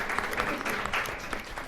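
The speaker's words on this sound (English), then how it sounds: "Can we give them a round of applause, please?" Brief, faint applause from a live podcast audience, a dense patter of many hands clapping at a distance with no voices standing out.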